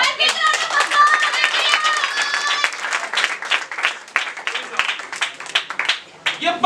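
Small audience at an award celebration claps and cheers, with excited young voices and whoops over dense clapping at first, then looser, uneven claps that taper and pick up again near the end.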